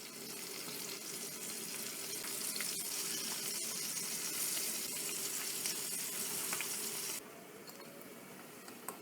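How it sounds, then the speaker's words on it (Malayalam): Dried manthal fish frying in oil in a pan, a dense, even sizzling hiss heard up close that drops noticeably quieter near the end, with no voices. "ഈ മാന്തളിനെ നമുക്ക് രണ്ട് വശവും മറിച്ചിട്ട് നന്നായിട്ടൊന്ന് ഫ്രൈ ആക്കി എടുക്കണം"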